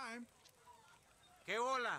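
Fighting roosters in Far Cry 6 give two loud, strained calls, one at the start and one near the end, separated by a quieter stretch.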